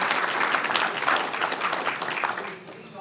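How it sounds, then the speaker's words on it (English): A Sacramento City Council meeting crowd applauds in a dense, steady wash of clapping that fades slightly toward the end, with voices mixed in underneath. "give him a round of applause"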